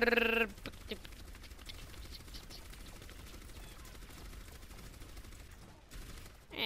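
Rapid bursts of video-game gunfire in Overwatch, fired at a shield, run as a steady dense rattle across the whole stretch, loud and close, with a brief tonal game effect at the start and no talking.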